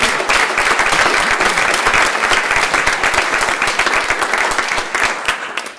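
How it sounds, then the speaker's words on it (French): Lecture audience applauding the speaker's colleagues, a loud, dense, sustained burst of many hands clapping close and continuous, tapering slightly at the end. "je voudrais que, en fait, vous applaudissiez tous mes collègues qui m'ont soutenu, aidé, et mes amis"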